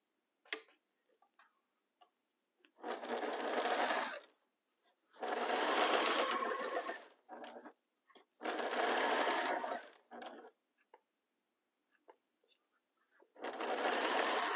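A home sewing machine stitches fabric in four bursts of rapid, even mechanical whirring, each lasting one to two seconds, separated by quiet pauses with soft clicks and handling noises.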